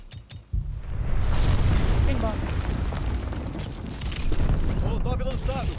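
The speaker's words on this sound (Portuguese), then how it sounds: "Aliados mandaram bomba planadora." A glide bomb detonates in the video game Call of Duty: Vanguard with a sudden heavy boom that swells into a long rumbling roar, while in-game voices talk over the blast.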